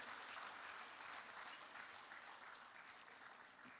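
Audience applause at a Hackaholics grand finale event, honoring the Wema Bank chairman: a steady, dense wash of clapping from a large crowd, heard from a distance and fading slightly toward the end.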